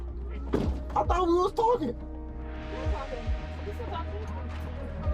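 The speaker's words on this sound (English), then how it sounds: "Damn, she was gonna shut the door on me." A door thunks shut with a short solid knock partway through, while someone talks close by and a low hum and faint noise run underneath.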